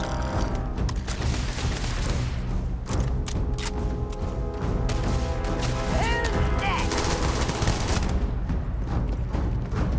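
A boosted Beowulf rifle fires in Starfield combat, with steady, rapid shots rattling almost continuously for ten seconds amid mechanical clatter and a busy battle backdrop.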